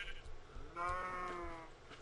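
A cow in the Minecraft video game gives one short, nasal, bleating moo over low background game noise.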